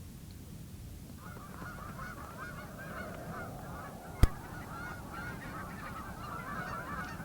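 Geese honk repeatedly in a noisy chorus over a low rumble, with one sharp click partway through.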